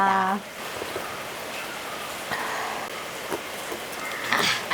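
Steady rain falls outdoors in the evening, a soft continuous hiss with scattered drip taps and a brief tonal sound at the very start, no talk heard.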